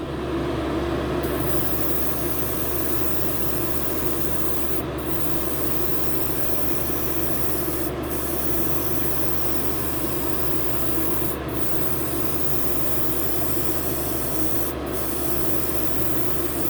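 A spray gun in a paint booth hisses continuously, spraying Gaahleri Kaleido Colorworks paint onto a small model. The broad, even rush is loud and steady, with a low hum beneath it and a few very brief dips.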